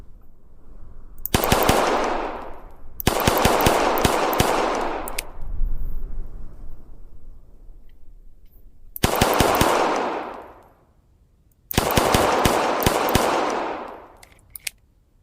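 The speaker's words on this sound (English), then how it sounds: "I'm also going to show a demonstration with it a little bit better with my pistol on Ace VR shooting." Rapid gunfire rings out in bursts from a pistol in the VR shooter Ace VR, with four loud volleys of quick repeated shots, each followed by a lingering echoing tail, separated by short pauses.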